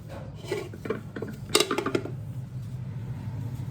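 A knife cuts boiled eggs in half on a hard surface, a few light scrapes and taps followed by a sharper clatter midway, then fading to quiet.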